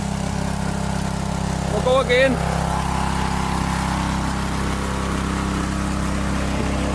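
A pressure washer engine runs loud and steady nearby as a constant drone, with someone speaking briefly over it.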